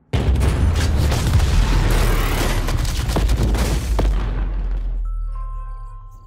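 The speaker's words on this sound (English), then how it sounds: "The explosions are in 3D!" Loud cartoon movie explosions from a robot combat fighter film, a dense continuous roar of booms and blasts lasting about five seconds before cutting off to a quiet tonal hum.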